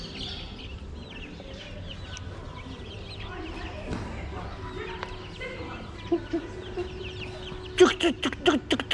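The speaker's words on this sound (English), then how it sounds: "Chicken." Chickens cluck and squawk in short bursts near the end, rising out of a steady outdoor background murmur with distant chatter.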